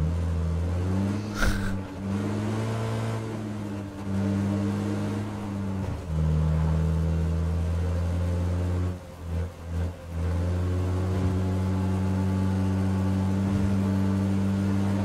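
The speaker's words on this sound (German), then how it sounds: "du hörst doch schon die Ventile klackern" In the video game PUBG, a Russian car's engine idles and revs with clattering valves, a steady close drone that dips and rises briefly a few times.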